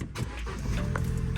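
A Vauxhall Corsa with a badly knocking front end cranks and settles into a steady, fairly quiet idle rumble, heard close up with no voices.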